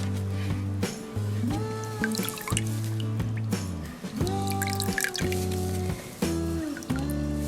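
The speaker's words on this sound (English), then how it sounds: "I've got a bucket of water beside me, and I'm just going to dip the sponge in." A sponge is dipped into a bucket of water and squeezed, giving a series of close, bubbly drips and trickles in an uneven rhythm with short pauses between them.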